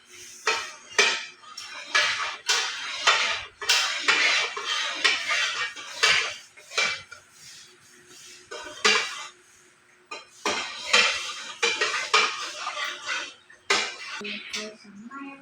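A utensil clinks and scrapes against a bowl while an ice candy mixture with evaporated milk is stirred, irregular bursts of clattering close by with short pauses between them.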